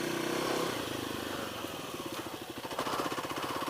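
A Kawasaki KLX300 motorcycle ridden off road in first gear, its single-cylinder engine chugging and revving in a quick pulsing rhythm, close and fairly steady throughout.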